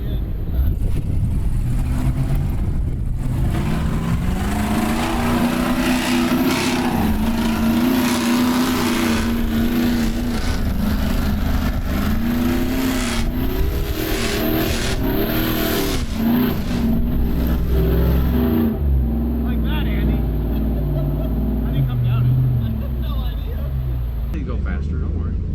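An off-road vehicle's engine revs hard and surges while it climbs a greasy hill on a rock-crawling trail in Missouri, loud and continuous throughout with rising and falling pitch as someone talks over it.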